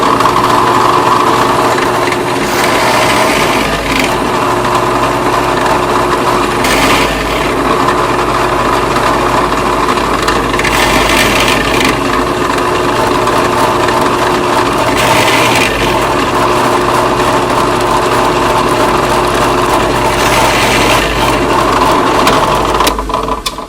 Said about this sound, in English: And you can drill just about as fast as you can line up and pull the lever.